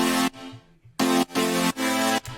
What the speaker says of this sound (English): So here is the chords without the bass.